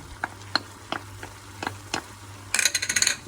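A utensil stirs peppers, onion, chicken and herbs in an oiled pan, giving a series of sharp scraping clacks at an uneven pace over low sizzling, ending in a quick burst of rapid scraping strokes.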